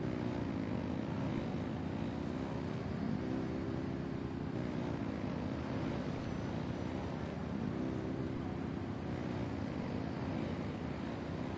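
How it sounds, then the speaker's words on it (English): Engines rev in the video game Genshin Impact, a loud, steady droning roar that holds unbroken for about twelve seconds with no voices over it. "Rev the engines!"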